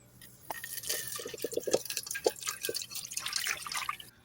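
Rice is rinsed by hand, with water dripping and splashing in a quick scatter of small drops and light trickles, fairly close and quiet, with no talking.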